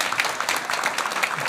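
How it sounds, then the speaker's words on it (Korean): Brief applause from a church congregation during a Sunday service, a short even patter of clapping at moderate level with no speech over it. "우리 친구들 한 번 더 박수 쳐줄까요?"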